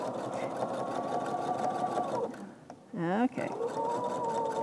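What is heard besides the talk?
sewing machine stitching a bias seam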